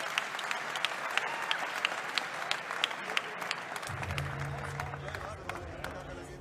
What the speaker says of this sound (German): Applaus bitte für beide Kämpfer.